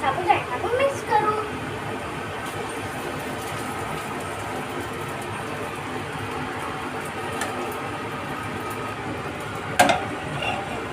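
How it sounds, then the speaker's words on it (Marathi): Sabudana being stirred into half-cooked potatoes in a pan for sabudana khichadi, with soft scraping and a low steady sizzle running throughout, a brief louder clatter near the end. "आता आपण त्याच्यात साबुदाणा टाकून मिक्स करू"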